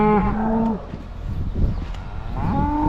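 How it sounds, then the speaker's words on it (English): A white calf moos twice, resting with its mother beside a bale feeder. A loud, drawn-out bellow opens the clip and a second rising moo closes it, with quieter farmyard rustling between the calls. "There's a beautiful white calf."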